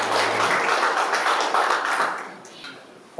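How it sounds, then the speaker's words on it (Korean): An audience claps steadily to welcome a former Atlanta Korean association president onto the stage, a dense, close patter that thins out toward the end. "여러분 다시 한번 박수로 환영해 주십시오."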